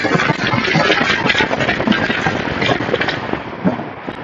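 A 2015 Corvette Stingray accelerating hard in sport mode with manual shifting, its deep engine roar loud and close and peppered with crackling pops throughout.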